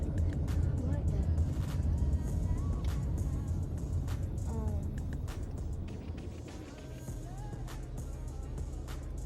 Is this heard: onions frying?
no